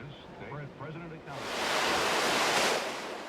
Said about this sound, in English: a windsurfer out in the wild waves and wind on Lake Washington this morning during the worst of the storm